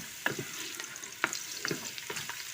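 Hot ghee sizzles and crackles in a pan for a tempering, with scattered pops and the occasional clink of stirring, close up and with no voices.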